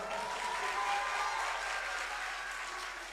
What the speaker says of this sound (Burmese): ကျွန်တော်တို့ ပါတင်တလန်ကိုလက်ခုပ်တယ်များနဲ့ကြိုဆိုပေးပါဦးခင်ဗျာ